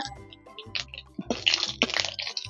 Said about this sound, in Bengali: ফোড়নে দিয়ে দিচ্ছি দুটো তেজপাতা, একটা শুকনো লঙ্কা, হাফ চামচ মৌরি, হাফ চামচ গোটা জিরে আর দুটো এলাচ ফাটিয়ে নিয়েছি, একসঙ্গে ফোড়নে দিয়ে দিলাম।